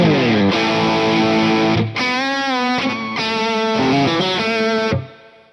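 Overdriven electric guitar chords on the bridge pickup of an Arrow guitar ring out close and loud, with one chord sustained and then a few changes before a cutoff.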